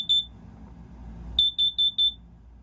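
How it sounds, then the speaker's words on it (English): A smoke alarm mounted just below a stove gives one short high beep, then after a pause four quick evenly spaced beeps, loud and close over a quiet room. "I reset that alarm and I am minding my own business and it goes off again"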